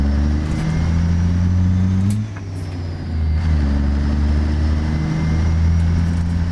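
A heavy Peterbilt 362 truck engine in American Truck Simulator rumbles steadily, its deep drone dipping briefly and then swelling again as it revs, loud and close with no talking.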